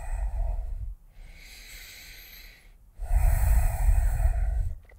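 Deep breaths taken during a slow hip-mobility and balance exercise session: a long noisy exhale, a quieter hissing inhale, then another strong exhale, all close to the microphone with no talk.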